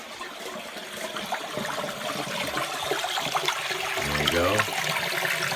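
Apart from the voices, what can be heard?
water pouring out of a sump pump hose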